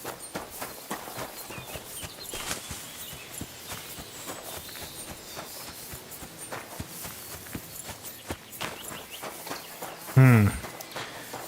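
Horses walk through an enemy camp in the video game Kingdom Come: Deliverance II, their hooves clopping steadily at middle distance under busy game ambience, with a sharp louder burst near the end.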